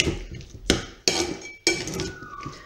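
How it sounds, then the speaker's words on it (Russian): Chicken fritter batter is stirred in a bowl, with a utensil knocking against the bowl in three sharp, close clinks separated by brief wet scraping and mixing noise. "Перемешиваем."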